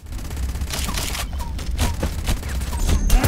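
Rapid gunfire in the battle game Farlight 84, a dense continuous fusillade of overlapping shots over a loud rumbling bed, close and sustained throughout.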